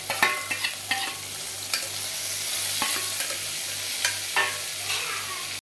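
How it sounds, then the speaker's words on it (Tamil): Onions, tomatoes and green chillies sauté in a pan for puri masala, a steady loud sizzle with repeated scraping stirs of a spoon against the pan, and no voices. "இப்போ இந்த 4 வெங்காயமும் போட்டு நல்லா வதக்கணும்."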